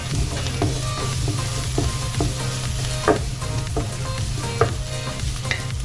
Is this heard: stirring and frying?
yes